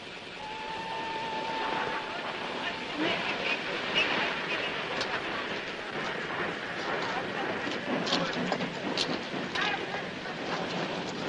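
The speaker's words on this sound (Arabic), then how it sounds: "وصل الآن قطار السويس رقم 14 على رصيف رقم واحد" A Suez train rumbles and clatters as it rolls in to platform one at a station, with squeals and clanks over a steady background of people talking.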